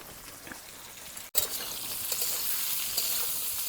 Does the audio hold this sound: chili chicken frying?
yes